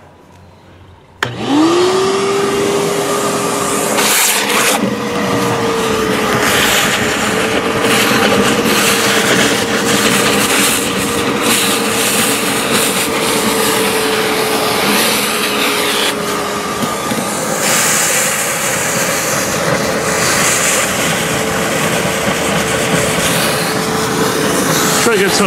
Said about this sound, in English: you can use your shop vac to vacuum down all these low areas